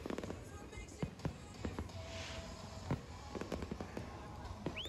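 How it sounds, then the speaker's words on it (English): Fireworks exploding at an outdoor concert with live singing, irregular sharp bangs and crackles at moderate distance over a crowd's steady murmur and chatter. "But then there's the fireworks."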